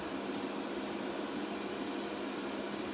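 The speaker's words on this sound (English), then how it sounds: "I'm just going to adjust my airbrush a little bit." Airbrush spraying paint onto a plastic model kit: a soft, continuous airy hiss that runs steadily without a break, fairly quiet and close, with no voices.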